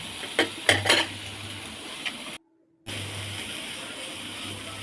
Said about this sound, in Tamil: நம்ம துருவி வச்சுருக்க கேரட் எடுத்துக்கணும். அதை வந்து போட்டு பச்சை வாடை போகிற அளவுக்கு நல்லா ஃப்ரை பண்ணணும்.